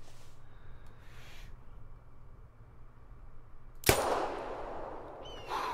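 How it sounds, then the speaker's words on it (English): A single loud crack from a 10 millimeter pistol fired at an ibex in the hunting game theHunter, bursting out of quiet outdoor ambience and trailing off in a short echoing tail. "let's see if we can't hit him with the 10 millimeter pistol"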